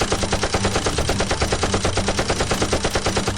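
A toy foam-dart blaster fires in a rapid, steady burst of mechanical clatter, loud and close, with no talk over it.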